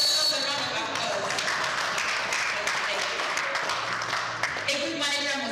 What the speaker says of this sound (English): Please give women a round of applause